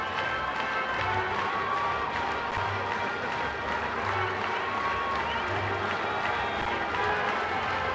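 A large baseball crowd at Petco Park in San Diego keeps up a steady, dense roar of cheering and clapping during a Padres game, continuous and fairly loud throughout.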